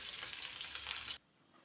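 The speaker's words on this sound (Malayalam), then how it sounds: "പിന്നീട് ഒരു സവാള ചെറുതായി അരിഞ്ഞതും ഇട്ട് കൊടുക്കുന്നുണ്ട്." Finely chopped onion sautéing in a pan for bun dosa gives a steady, close sizzle for over a second, then cuts off abruptly into near silence.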